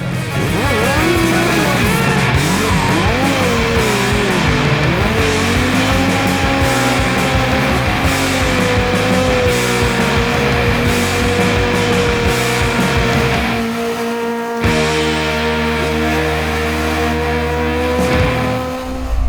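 Drift cars and motor show vehicles roaring at an outdoor circuit show at a château, a loud continuous engine drone with revving pitch shifts and a sudden drop near the end, crowd noise faintly underneath.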